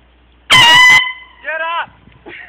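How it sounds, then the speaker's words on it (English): A loud air horn blasts right up close in a room where someone is sleeping, one long harsh honk followed by two shorter, weaker bursts. "Air horn"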